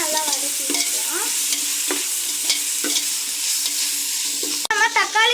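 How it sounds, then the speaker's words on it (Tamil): Mint and coriander leaves sautéed in a hot pan for vegetable biryani, with a steady close sizzle and repeated scraping of a spoon as the leaves are stirred, no talk. "சேர்த்து இதையுமே நல்லா வதக்கி விட்டுக்கலாம்."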